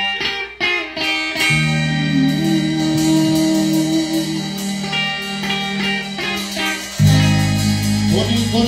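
A band launches into a song at a live show in Dallas, Texas, with a dense, loud, steady mix of instruments playing without a break and a heavier low end entering near the end.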